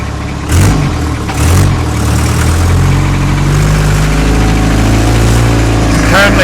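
A Land Rover fitted with a converted Isuzu engine runs loudly up close, with a deep steady idle and brief revs near the start, and a voice talks over it.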